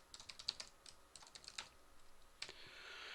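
Quiet, irregular clicking of computer keyboard keys while code is typed, with bursts of presses and short pauses throughout, no voices.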